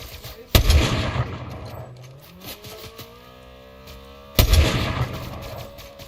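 Two sharp, loud gunshots from the lock-on pistol in the Fortnite video game, about four seconds apart, each followed by a short decaying tail over quieter in-game background sound.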